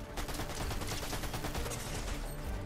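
Dense automatic gunfire sprays in rapid bursts during a Fortnite match, a continuous loud fusillade of shots that holds steady across the whole stretch with no talking.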